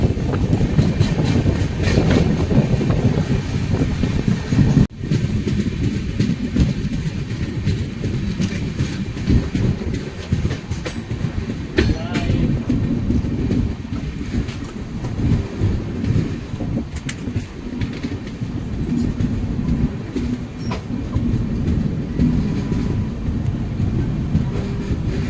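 Hatia–Puri Tapaswini Express running steadily on the rails, a continuous loud rumble with rhythmic clickety-clack of wheels over joints and a sharp knock near the start, no voices.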